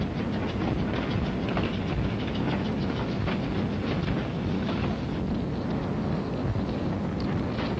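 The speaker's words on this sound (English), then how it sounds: "And the trains loaded with war wearies going back for salvage." A steady, loud rumble of a train rolling on the tracks with faint rhythmic clacking, continuous and close, no voices.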